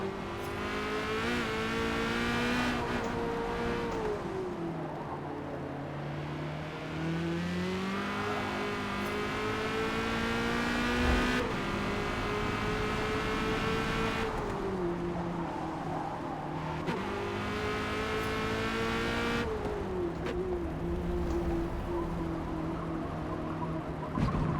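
A Corvette C8.R race car engine revs and shifts through gears on the Mid-Ohio circuit in a racing game, loud and continuous, with pitch rising and dropping as it accelerates, brakes and spins its wheels.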